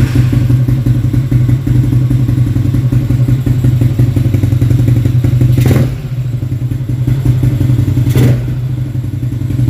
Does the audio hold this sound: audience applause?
no